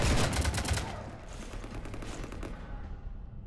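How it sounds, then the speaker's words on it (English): Rapid automatic gunfire in Mass Effect 3 as a ship is shot up, a loud close rattle of fast shots at the start that thins into a rumbling, echoing tail and dies away. "You want to stop shooting up my ship?"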